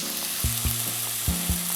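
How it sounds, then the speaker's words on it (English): Onions and chili peppers hitting hot oil in a pan, a loud, close, steady sizzle and crackle with a few stirring knocks, and no voices. "now I'm gonna add the onions and chili peppers to the oil"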